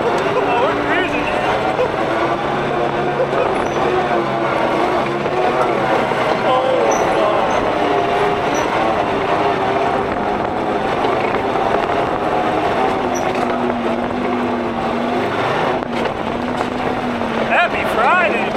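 An army tank engine rumbles steadily as the tank drives, a continuous low drone with no pause, while people talk and laugh over it from inside.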